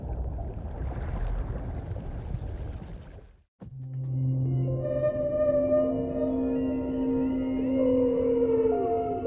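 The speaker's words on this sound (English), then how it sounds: "His complex and haunting song can be heard for miles underwater." Underwater, a male humpback whale's song emerges after a stretch of rough rushing water noise and a brief dropout: sustained droning tones and sweeping higher wails, clear and fairly close, continuing to the end.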